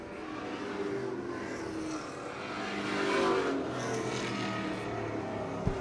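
Race cars circling a short oval track at the finish of a super street race, a distant steady engine drone that swells and fades as cars pass, with no voices.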